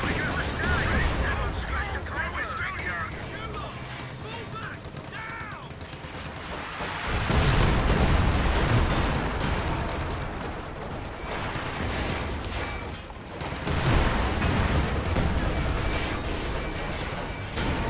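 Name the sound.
artillery bombardment in the video game Company of Heroes 2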